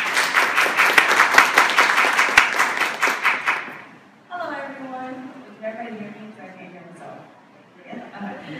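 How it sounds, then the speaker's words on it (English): A conference audience gives a quick round of applause for a speaker at a developer event. About four seconds of brisk, fairly close clapping fade out, and then a person starts talking. "could we have a quick round of applause for Gabby from Microsoft?"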